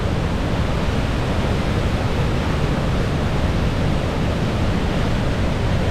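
Sahalie Falls, a roughly 75-foot horseshoe waterfall swollen with snow melt, roars as a dense, unbroken broadband rush, loud and constant without any voices.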